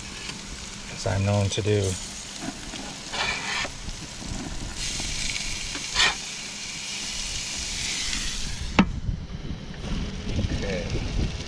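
Burgers sizzle on an RV grill right after being flipped, a steady broadband hiss running throughout with a brief clatter near the start, while a person talks over it.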